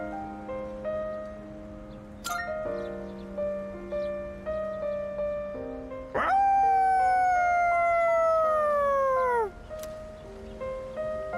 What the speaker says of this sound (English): Koromaru's howl resounds throughout the quiet shrine.